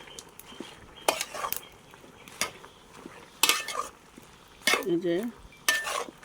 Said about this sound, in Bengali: পুঁইশাকগুলো একটু ভালো করে নেড়ে ছেড়ে দিব, নেড়ে ছেড়ে মিক্স করে দিব।